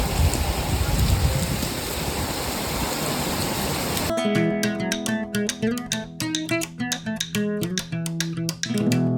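Dense, steady first rain of the season hisses loudly for a few seconds, then gives way to music with a plucked, rhythmic melody.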